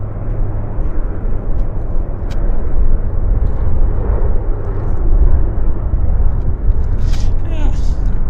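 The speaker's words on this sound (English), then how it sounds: "There's a Q400 there on the roll." A Q400 turboprop airliner on its takeoff roll at Vancouver airport makes a distant, rising rumble and engine drone, with light background noise and brief faint clicks.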